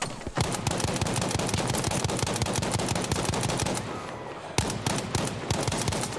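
Rapid automatic gunfire from the PC shooter Battlefield 5, loud and close, bursts running almost continuously with a brief pause near the middle before the firing resumes.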